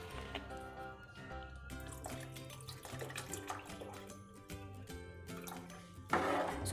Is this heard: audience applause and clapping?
no